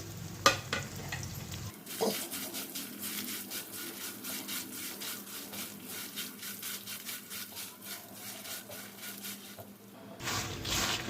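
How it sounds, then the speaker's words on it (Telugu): Dried Guntur red chillies frying and being stirred in a pan, with a steady soft sizzle and repeated rhythmic scraping strokes of a spatula against the pan, close and moderate. "ఇప్పుడు ఎండుమిర్చి యాడ్ చేస్తున్నాం"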